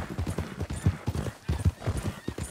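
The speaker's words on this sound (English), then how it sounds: "There's all types of horses over here That's we can tame." Horses in Red Dead Redemption 2 clop their hooves in an uneven, steady rhythm close by, with a few whinny-like calls mixed in and no talking over them.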